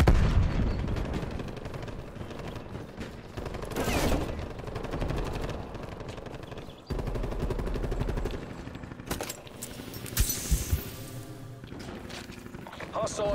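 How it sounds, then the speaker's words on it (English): Artillery shelling crashes in the video game Dirty Bomb amid bursts of machine gun fire and booms, mostly moderate in level, with an announcer voice speaking over the combat. "Hostile artillery targeting active. Net call. Incoming artillery."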